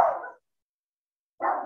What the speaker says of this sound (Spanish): Ah, perdón por mi perro.